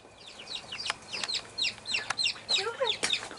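White Peking ducks on a California family farm calling in a busy chorus of quick, close, fairly loud quacks and chattering notes, overlapping and repeating with no talk.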